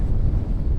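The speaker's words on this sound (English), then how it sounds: "Man, can y'all hear this wind?" Strong, gusty wind rips across Truman Lake during crappie fishing from a boat. It roars and buffets the microphone in a continuous, loud, low rumble with no talking.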